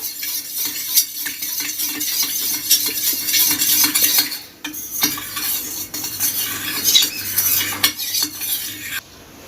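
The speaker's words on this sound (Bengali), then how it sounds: "টমেটো সস দেড় চামচ এটা জল দিয়ে গুলে রাখবো" A spoon clinks and scrapes steadily against a bowl while mixing chili sauce and tomato sauce with water, close and busy for several seconds, with faint kitchen sizzle behind and no talking.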